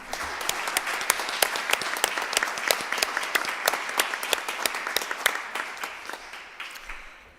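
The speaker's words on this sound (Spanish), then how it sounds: "yo realmente quiero pedir como un nuevo aplauso para ellos" A congress audience gives a renewed round of applause at a conference on the separation of church and state in Chile, crisp claps ringing out strongly before tapering off toward the end.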